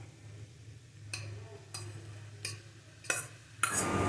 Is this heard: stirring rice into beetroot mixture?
yes